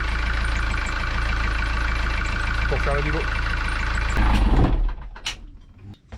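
A Beta Marine boat engine with 50 hours of use runs steadily while warming up, a low continuous drone and rumble that drops away near the end, with someone speaking briefly over it.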